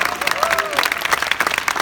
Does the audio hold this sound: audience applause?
yes